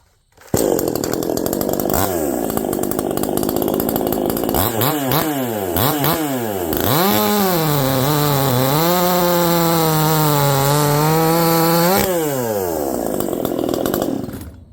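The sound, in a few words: chainsaw cutting wood while testing a .325 chain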